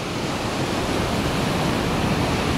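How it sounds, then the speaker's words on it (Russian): Strong sea waves roar steadily against the shore at Alanya, Turkey, on a calm, windless day, a dense unbroken wash of surf with no voices. "Ветра нет, просто волны очень сильно шумят"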